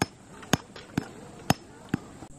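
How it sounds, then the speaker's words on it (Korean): Hammer strikes driving tent pegs into the ground at a campsite, five sharp metallic blows at a steady half-second rhythm, close and clear over quiet outdoor background. "망치질 할 때는 팔 힘으로 치면 안 돼요."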